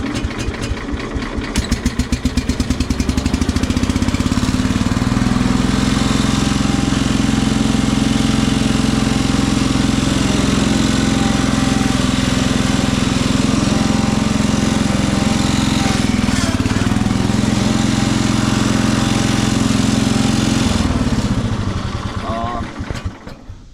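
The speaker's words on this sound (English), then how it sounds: "I don't know if you guys can hear me over the engine noise" A 1970s Cub Cadet garden tractor engine runs loud and close, a steady rumbling drone that holds for about twenty seconds before winding down and cutting off.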